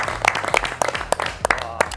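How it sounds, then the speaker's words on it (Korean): Several people clap in a short, uneven burst during a commentary session. The claps are close and distinct, some overlapping and some coming alone, against a quiet background. "박수 한번 쳐야겠다"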